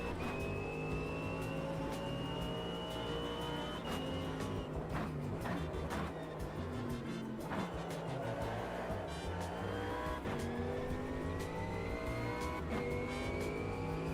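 A racing car engine in the video game Automobilista 2 revs and whines continuously, pitch climbing and dropping through gear changes, with occasional tire squeals, loud and steady throughout.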